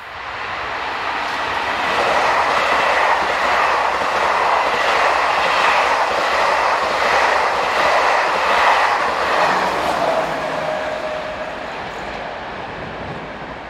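SNCF BB15000 electric locomotive 15044 passes at Motteville with a train, a steady loud rumble of wheels and rushing air with faint rhythmic clatter, easing off toward the end.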